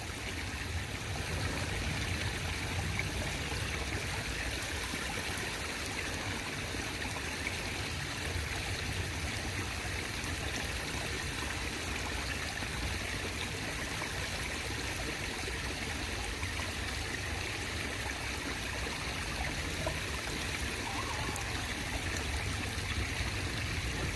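Water sloshing and trickling steadily as black sand is washed in a gold pan, a continuous near wash of running water with no talk.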